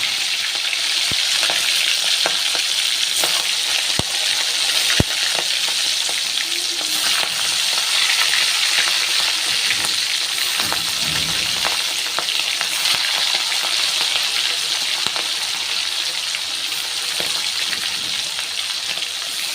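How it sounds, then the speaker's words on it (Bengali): Prawns frying in plenty of oil in a kadai, a loud, continuous close sizzle and crackle with occasional sharper pops and a brief stir. "তেলটা বেশ ভালো পরিমাণে দিতে হবে কারণ হচ্ছে মাছটাকে কিন্তু বেশ ভালো করে ভাজতে হবে"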